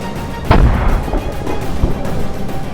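A .50 BMG French Legion rifle fires one sharp, booming shot outdoors, followed by a fading rumble and a faint later thump.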